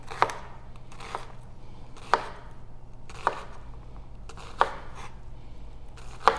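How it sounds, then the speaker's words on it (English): A kitchen knife chops onions on a cutting board for soup, five sharp, evenly spaced strikes about a second apart, close and distinct over quiet background. "Cut up the onions."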